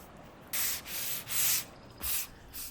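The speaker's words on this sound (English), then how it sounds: "I'll sand out any trapped dust particles" Sandpaper rubs across the sealed surface of a mid-century Lane Acclaim cedar chest between sealer coats, in four or five short back-and-forth strokes that start and stop with brief pauses, close up and with no talking.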